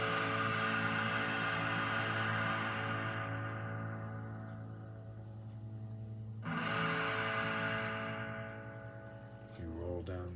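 An electric guitar played with a distorted tone through a Rat pedal rings out in sustained chords that slowly decay, then another strummed chord rings and fades, ending with a brief rattle of strings.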